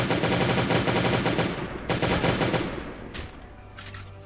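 Rapid automatic gunfire against zombies in the mobile game Last Day On Earth, a loud, dense burst of machine-gun shots that stops abruptly, followed by a few quieter scattered shots and lingering game noise.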